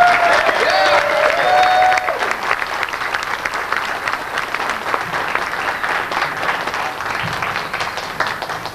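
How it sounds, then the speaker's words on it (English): Crowd applause at a furry convention, steady clapping from a large audience that carries on for several seconds, with a faint voice at the start. "give a big round of applause to Dan DiCarlo."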